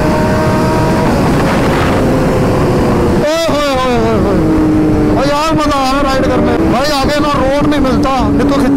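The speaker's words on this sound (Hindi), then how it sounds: "बहुत सुंदर आवाज आ रही है टेनर की।" A Kawasaki ZX-10R motorcycle revs hard on a Sunday ride, its engine and exhaust rising and falling through repeated climbing pitch sweeps over loud wind rush, with a voice talking over it.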